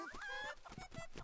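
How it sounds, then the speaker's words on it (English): Video-game chicken clucking in Link's Awakening, a few bright, close, chirpy clucks in quick succession with no talk over them. "Chickens these days don't have the fighting spirit they used to."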